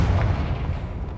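A Confringo fire spell goes off in Hogwarts Legacy as a single loud, heavy, booming blast that starts at full strength and rumbles away over about a second.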